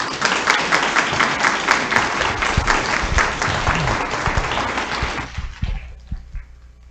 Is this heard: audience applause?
yes